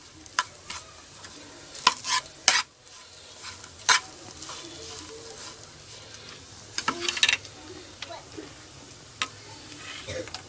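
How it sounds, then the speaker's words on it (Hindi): Rusk halwa mixed with egg is stirred in a pan off the heat, giving irregular spoon scrapes and taps over a faint residual sizzle, close and fairly quiet, with no talking. "इसके अंदर मैंने एक अंडा डाला है और इसे आग से हटाकर हिलाते रहना है"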